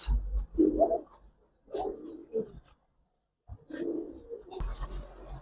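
Gribaz and racer pigeons coo in low, throaty bursts, several rounded calls close by with short gaps between them, no talking.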